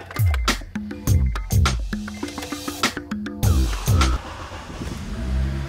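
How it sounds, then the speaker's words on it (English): A car engine idles and revs in repeated sharp bursts, loud and close, with deep rumbling throttle blips rising and falling several times while it runs. "Engine sounds really good."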